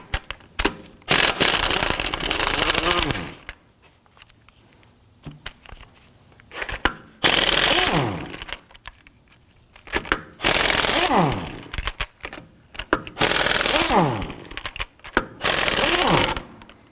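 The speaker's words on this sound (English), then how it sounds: "Using a 19mm thin wall socket, I'm going to go ahead, loosen and remove our lug nuts and our locking key" A power tool with a 19mm thin-wall socket loosens and removes lug nuts on a 2005-2009 Subaru Legacy front wheel. Several loud, close, rattling bursts of a few seconds each are separated by quieter pauses.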